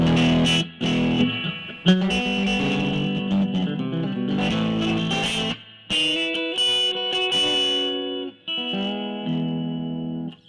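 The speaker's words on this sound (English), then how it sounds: "This is a Tele. I like it for the country stuff because this is very clean." A clean Telecaster electric guitar plays a twangy country run of single notes and chords with short breaks between phrases, bright and close.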